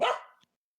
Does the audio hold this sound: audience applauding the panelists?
no